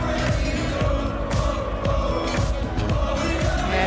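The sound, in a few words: darts crowd cheering and singing along to walk-on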